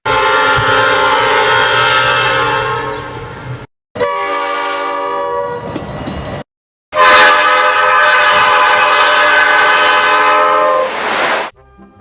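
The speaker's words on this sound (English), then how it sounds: "equipping the train sets with a Nathan P1234A5 air horn" Three loud, sustained blasts of an Amtrak Turboliner's Nathan P1234A5 multi-tone air horn, separated by brief silences, the last one longest and brightest.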